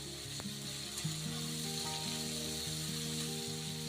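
Spice paste of ginger and cumin sizzling in a pan as it fries for a vegetarian paneer dish, a soft steady crackle with faint stirring, quiet and close, no voices.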